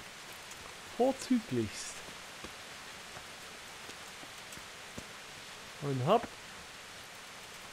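Steady, soft rain hiss from a shower in the game Kingdom Come: Deliverance runs evenly throughout, with someone speaking briefly twice over it.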